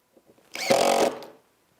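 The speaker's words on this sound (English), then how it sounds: "I need to install 4 screws" A power screwdriver briefly whirs as it drives a screw through the spinner wheel into the bottom shelf of a lazy susan corner cabinet, one loud burst lasting under a second after a few faint clicks.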